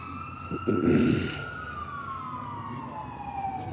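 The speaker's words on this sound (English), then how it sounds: "the ambulance is leaving out now" An ambulance siren wails as the ambulance pulls away from a building on Center Street in West Roxbury after a car backed into it, a steady sweeping tone with a burst of rumbling traffic noise early on.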